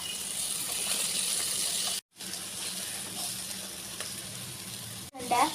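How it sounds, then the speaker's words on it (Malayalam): Masala sizzling and being stirred in a hot pan while cooking a beef dish, a bright continuous hiss with scraping stir sounds, briefly cut off twice, close and fairly quiet. "ഇനി നമുക്ക് നല്ലോണം വഴറ്റിയെടുക്കാം."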